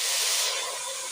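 A steady, loud hiss of hot water poured into a hot pot of peas and red meat, fading slightly over a brief moment with no talking.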